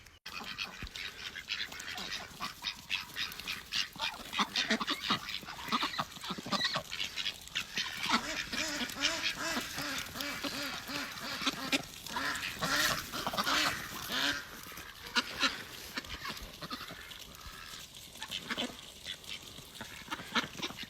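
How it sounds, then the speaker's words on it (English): A flock of around nineteen ducks, mostly Pekins with Rouen and crossbreeds, quack and honk continuously on a homestead farm, a busy overlapping chorus heard nearby without talk. "We have 19 ducks right now."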